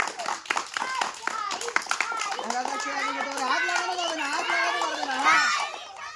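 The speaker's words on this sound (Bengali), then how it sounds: "একটা হাততালি হয়ে যাক" A quick round of clapping from a group at a children's game contest, sharp scattered claps at first that give way to excited children's voices and chatter.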